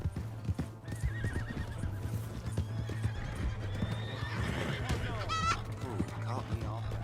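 Horse hooves clip-clop rapidly with a neigh in Red Dead Redemption 2, under game character dialogue and shouting, with other whinnies and animal calls mixed in.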